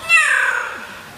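A parrot imitates a cat's meow, giving one short, clear, nasal mew that rises and then fades away, heard alone and close up.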